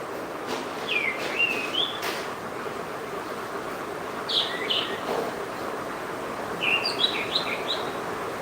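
Birds chirping outdoors in short bright twittering calls scattered across a steady hiss of background ambience, moderately distant, with no speech.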